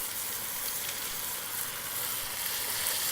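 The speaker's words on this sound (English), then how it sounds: "I'm going to add the last two pieces of pork to the pan" Pasture-raised heritage pork shoulder pieces searing in a hot pan or Dutch oven, a loud, steady crackling sizzle that holds throughout with no voices.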